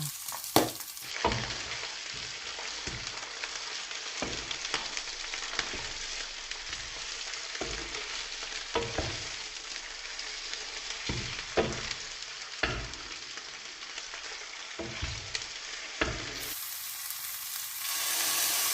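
Sliced onion, fresh chilli or bell peppers and green onion are stir-fried with golden fried garlic for crispy pork belly, giving a continuous close sizzle broken by repeated sharp spatula scrapes and clanks against the pan, with no talking.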